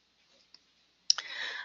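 A computer mouse gives a faint tick and then a crisper click close by in an otherwise quiet room, followed by a soft lingering hiss.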